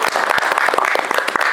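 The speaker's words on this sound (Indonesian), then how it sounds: "terima kasih untuk Asril, tepuk tangan untuk Asril." Classroom applause from a group of students, a brief burst of dense, close clapping.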